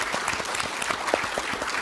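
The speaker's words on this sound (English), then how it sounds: "I think that needs an applause." Audience applause at a summer Davos forum in Tianjin, a steady wash of clapping from a large hall crowd, moderately loud and fairly even throughout.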